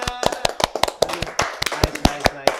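A small group claps hands in an irregular, fairly close patter of sharp slaps lasting a couple of seconds, with faint talk mixed in.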